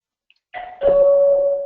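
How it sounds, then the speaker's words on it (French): A MOBOTIX door intercom doorbell rings indoors, a short chime tone starting and then holding as a loud, sustained electronic ding with no talk. "j'ai sonné sur mon portier"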